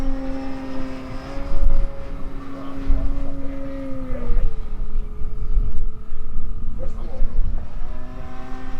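A Sebart Extra SX 61-inch 6s electric RC aerobatic airplane flies loops and Cuban eights, its propeller whine rising and falling in pitch as it maneuvers at moderate distance, steady and fairly loud throughout.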